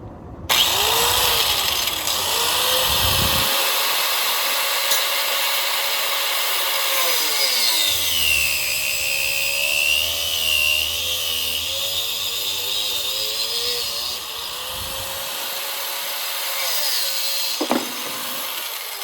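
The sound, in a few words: sawing a cut during transmission cooler install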